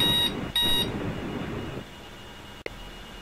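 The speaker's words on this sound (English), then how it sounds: "That was the timer, in case you didn't know." Two short electronic timer beeps sound in quick succession in the space simulator Orbiter, clear and close over a low background hum.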